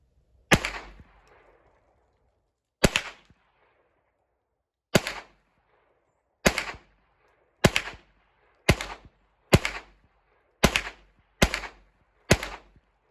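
Ten sharp, loud gunshots from a Hi Standard Dura-Matic .22 pistol plinking with Federal ammunition, spaced irregularly at first and then in a quicker steady string, each crack decaying fast with no voices.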